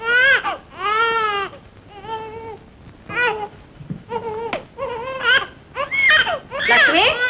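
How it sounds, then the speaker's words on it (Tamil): A baby cries in a Tamil film scene, loud wailing bursts that rise and fall in pitch, broken by short gasping pauses, up close and alone with no talk over it. "குழந்தை அழுதுகிட்டு எங்க போயிட்ட?"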